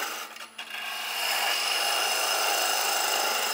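A woodturning gouge removes bulk wood from a spinning blank for a cheese serving board handle, a short scrape giving way to a steady, loud rasping cut.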